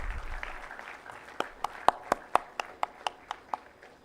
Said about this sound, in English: Can we have a big round of applause for Secretary,